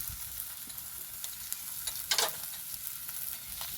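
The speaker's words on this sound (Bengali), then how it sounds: "ভালো করে নেড়ে চেড়ে মিক্স করে নেব।" Rui fish masala with salt and turmeric sizzling in a pan, a steady close hiss with a few brief scraping stirs, one louder burst in the middle.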